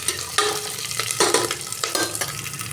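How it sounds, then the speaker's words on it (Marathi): Chopped onions and green chili fry in a hot pan while being stirred, giving a steady close sizzle broken by repeated scraping stirs at an irregular pace. "कांद्याबरोबरच आपल्याला हिरवी मिरची पण ॲड करायची आहे पुन्हा एकदा हलवून घ्यायचं आहे"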